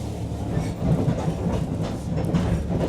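The SATONO sightseeing train rolls away from Wakuya station with a steady low rumble and rhythmic wheel clatter over the rails, heard from inside the car.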